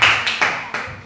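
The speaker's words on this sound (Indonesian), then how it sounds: "Iya, tepuk tangan buat si Arya." Short burst of audience clapping in an Indonesian classroom session, a few distinct claps close together over barely a second, fairly loud with no talk over it.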